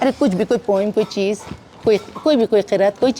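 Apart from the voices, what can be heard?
None of the usual background noises is heard.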